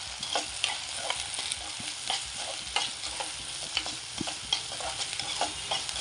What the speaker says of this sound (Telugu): తర్వాత ఇందులోకి మనం ఉల్లిపాయలు వేసుకుందాం. ఉల్లిపాయలు వేసుకొని మంచిగా కలుపుకోవాలి.